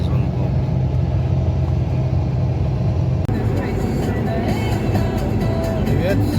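Car interior on a drive out to a winter fishing trip at the Kapchagay reservoir, a steady loud low rumble of engine and road noise that continues throughout, with someone talking over it.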